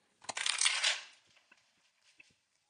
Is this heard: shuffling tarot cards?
yes